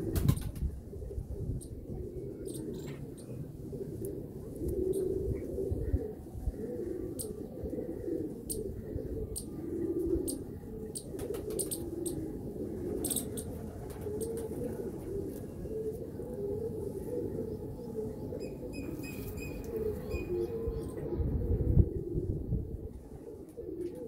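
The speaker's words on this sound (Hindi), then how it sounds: "ये मेरी बड़ी कबूतरी है" A Sialkoti pigeon coos with soft low repeated calls over a steady rustling background, close by, with occasional faint chirps and wing flutters.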